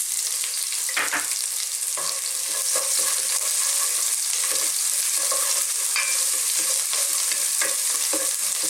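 Garlic and onion sautéing in hot oil give a constant bright sizzle, broken by occasional scrapes and knocks of a stirring utensil, close and fairly loud with no talking.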